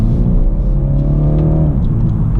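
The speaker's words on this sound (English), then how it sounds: "it really picks up great actually, the car." A 2018 BMW 430i Gran Coupé xDrive accelerating, heard from inside as a loud, steady engine drone whose pitch climbs for about two seconds before easing off.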